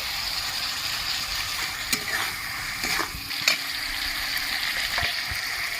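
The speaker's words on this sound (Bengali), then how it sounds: "ভেজে রাখা চিংড়ি মাছগুলো আমি কুচিয়ে নিয়েছি মশলার মধ্যে আমি দিয়ে দিচ্ছি" Chopped fried prawns stirred into masala in a pan, a soft continuous sizzle with a few scraping stirs and clicks, quiet and close with no talking.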